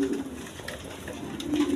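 A running pair of Mahasallam pigeons coos softly and steadily, with low murmuring calls close by at moderate volume and no talking.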